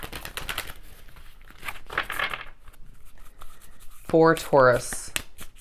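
Oracle and tarot cards are shuffled by hand in quick papery riffles and flicks, close and fairly loud, with someone speaking briefly between bursts.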